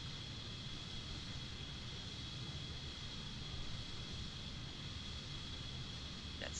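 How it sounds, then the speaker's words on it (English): A fast, powerful jet aircraft climbs after takeoff over Saba Island, heard as a faint, steady distant roar with a broad hiss and a thin high whine, no voices. "Very fast and powerful aircraft guys."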